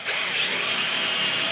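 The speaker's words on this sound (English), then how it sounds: "I'm gonna pre-drill this one." A power drill pre-drills a hole for a TV wall mount, running as a continuous high-pitched whine at close range with no speech.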